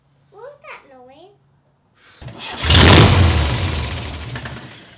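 An old car engine cranks and catches, running for the first time in 27 years, a loud rough idle that swells and holds after someone speaks briefly beforehand.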